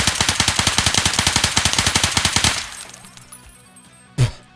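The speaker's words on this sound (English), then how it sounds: "It's going to be test 1 with the G36. We're going to have a burst fire" A G36 rifle in a video game firing a long, rapid string of sharp, loud, evenly spaced shots for about two and a half seconds, then a quiet tail with one isolated thump near the end.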